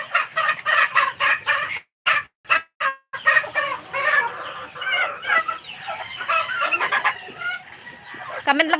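Chickens clucking continuously and loudly up close, a steady run of rhythmic clucks broken by a couple of brief pauses.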